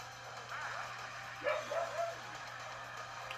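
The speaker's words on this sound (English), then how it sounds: "I don't know why my dog is barking currently." A dog barking a few short yips in another room, faint and brief over a low steady electrical hum.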